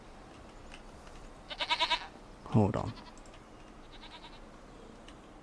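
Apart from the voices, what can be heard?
goats bleating in Farming Simulator 25 video game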